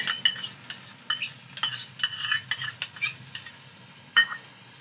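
Yogurt goes into a pan of frying stuffed ridge gourd and a utensil stirs it, producing close scraping strokes in an uneven rhythm over a soft sizzle, with no one speaking.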